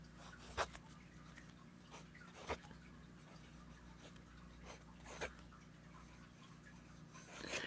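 Quiet scratching of a Franklin-Christoph 02 Intrinsic fountain pen's stub nib moving across paper, soft continuous strokes with a few louder scrapes at irregular intervals.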